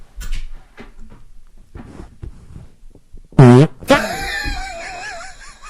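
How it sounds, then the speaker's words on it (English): A loud, brassy fart rips out for about a second amid scattered voices, followed by a squealing, wavering sound and more chatter. "Imagine choking on your own fart."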